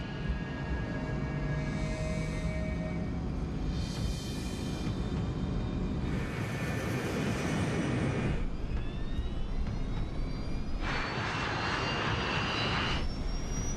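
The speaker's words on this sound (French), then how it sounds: "Le DC-8 accélère pour atteindre sa vitesse de décollage." Arrow Air DC-8 jet airliner at Gander airport accelerating down the runway for takeoff, a loud steady engine roar with rising whining tones and broadband rushing noise throughout.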